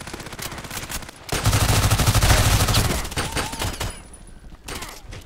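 PDR-C SMG fire in the shooter game Contract Wars: a loud, sustained burst of rapid automatic shots for a couple of seconds, then a few scattered shots and quieter action sounds.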